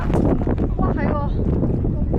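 Strong wind buffeting the microphone outdoors in Italy, a loud constant rumbling roar under close conversation among people.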